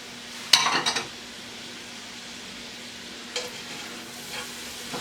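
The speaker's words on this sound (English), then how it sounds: "we're dumping the mushrooms in there" Mushrooms tipped into a pan of bolognese sauce: a burst of clattering and scraping, then a soft, steady sizzle with a few faint stirring knocks later, close by.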